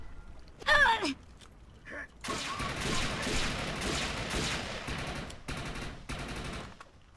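Gunfire rattles in the shooter game Defiance, coming in dense, sustained bursts over several seconds. A short vocal cry is heard just before the shooting begins.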